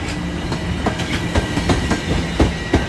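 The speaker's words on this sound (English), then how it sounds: "it's a super hyper fast, not going through a slow zone at all TTC train" A fast Toronto TTC subway train rushes past without slowing, its wheels clattering in a rapid, steady clickety-clack over a loud, continuous rumble.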